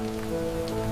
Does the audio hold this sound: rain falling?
yes